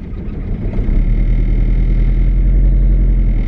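A 1992 Japanese import Toyota camper van engine rises from a low idle into a steady, loud rumble as the van pulls away, close by and with no talking.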